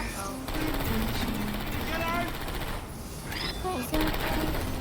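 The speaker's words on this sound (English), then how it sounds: "I heard gunfire!" Rapid bursts of automatic gunfire rattle through a busy Portal 2 game soundscape, with a voice shouting over the shooting.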